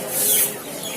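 A white rooster at a market gives a short, close cluck in a single brief burst over background noise.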